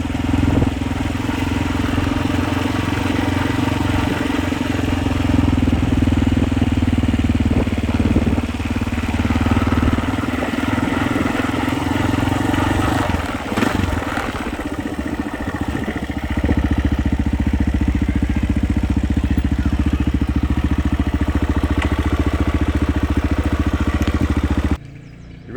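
A 1989 500cc motocross motorcycle idles in a pit area, a loud, close, steady engine rumble with a brief throttle blip and wobble midway before settling back to an even idle.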